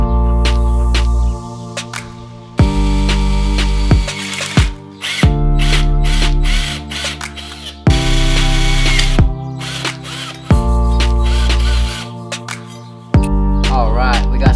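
A power drill bores pilot holes for a custom bilge pump bracket on a jon boat: several loud, close bursts of whining drilling, each spinning up and stopping, with brief gaps between holes.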